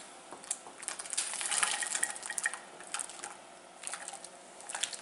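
Raw carrots slide off the side of a wooden spoon into a pan of water, making a continuous clatter of light splashes and small tumbling knocks for several seconds, heard close in a kitchen.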